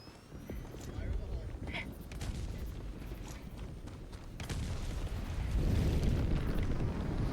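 A Giga Grenade explodes in the video game Helldivers, giving a deep, rolling rumble that swells in the second half amid scattered battle noise, with a voice talking over it.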